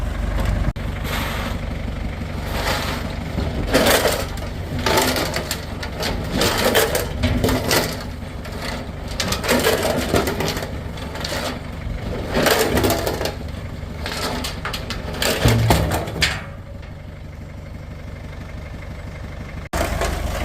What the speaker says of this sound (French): nettoyage du réservoir au tracteur et bétonnier. Du coup, mettre des boulons dedans.